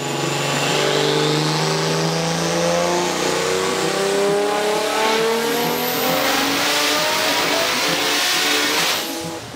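A turbocharged car engine revs hard during a dyno pull at high boost, one long loud climbing wail with rising whine and steady mechanical roar, ending abruptly as the pull finishes.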